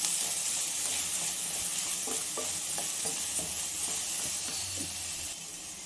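Grated coconut frying in a pan for idli bele saru, a steady broadband sizzle with scattered stirring scrapes and clicks, close and continuous with no talk.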